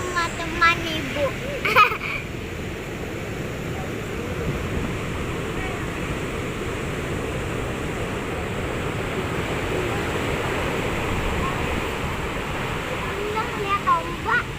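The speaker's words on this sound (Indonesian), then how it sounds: "Ombaknya gede sekali teman-teman, kita nggak mau berenang." Big ocean waves break on Berawa beach in Bali, a continuous loud wash of surf with wind noise on the microphone, while people talk over it now and then.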